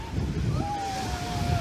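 Rough surf breaks on a Turkish shore as the sea turns choppy in the evening, a steady low wash and rumble with a faint tonal whine drifting over it, close and continuous.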